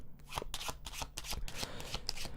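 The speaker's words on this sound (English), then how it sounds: "I might shuffle the cards in that manner." Playing cards shuffled by hand in a casual style, a run of crisp riffling flutters and soft taps repeating close up for the whole stretch, with no talking.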